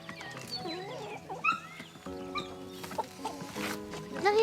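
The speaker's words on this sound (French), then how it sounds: "Première mission de la journée, nourrir les poules." Chickens being fed cluck and squawk in a busy overlapping chorus, with several birds calling close by at once, continuous throughout.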